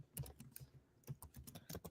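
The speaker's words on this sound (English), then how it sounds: "I hear you guys both typing at the same time." Quick, irregular clicking of keys on a computer keyboard, close and quiet, with no voices.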